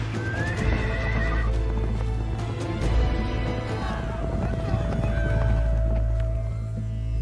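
Several horses gallop with clip-clop hooves and loud neighs and whinnies in a desert chase scene from a film, a steady dense rumble of hoofbeats with a low drone underneath and no talking.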